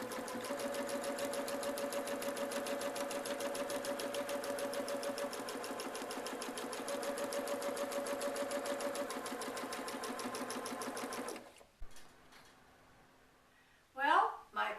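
A sewing machine quilts feathers along a stem on a quilt, running in a fast steady stitching rhythm for about eleven seconds before stopping, followed by faint handling noises and brief talk.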